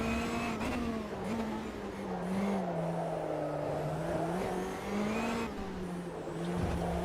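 A rallycross car in the Automobilista 2 racing game drives without pause, its engine note climbing and dipping as it revs and shifts, heard clearly with no voices over it.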